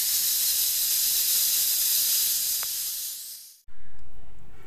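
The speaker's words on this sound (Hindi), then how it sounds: "यहाँ पर मैं जो है चूल्हे की आंच को बंद कर दूंगी और इसका सारा जो है स्टीम रिलीज़ होने दूंगी" Steam hisses loudly and steadily from a pressure cooker of whole green moong dal taken off the heat, tapering off, cutting out briefly, then bursting back in at full strength.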